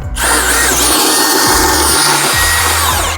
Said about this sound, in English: It comes with a crank that you can do by hand, but if you get the right bit, you can use a drill.